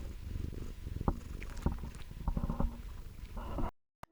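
A cat lying on a lap purrs in a soft, continuous low rumble, close and steady, with a few small bumps and rustles on top before the sound cuts off.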